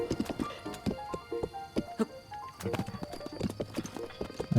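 Horse hooves clip-clop in a steady, repeating rhythm as a horse is ridden across open ground in a Zelda game, close and clear, with an occasional snort or whinny and a faint musical background.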